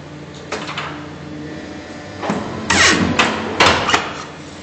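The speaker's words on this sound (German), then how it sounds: "Der Schnitt fährt jetzt laut Programm immer diesen 210 mm automatisch ab." A 1995 Perfecta 115 UC paper guillotine making automatic programmed cuts through paper stock, giving several sharp, loud mechanical thumps and clanks over a low machine hum.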